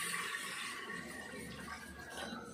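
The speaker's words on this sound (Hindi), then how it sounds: "अभी हम इसके अंदर पानी ऐड करेंगे" Water poured into a pot of fried rice during home cooking, a steady rushing splash lasting a couple of seconds with no speech.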